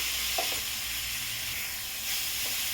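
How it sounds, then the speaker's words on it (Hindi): Onion and tomato frying in a pan for an egg bhujiya, producing a constant, fairly close hissing sizzle with a couple of faint stirring scrapes and no one speaking. "प्याज और टमाटर अच्छी तरह भून चुका है।"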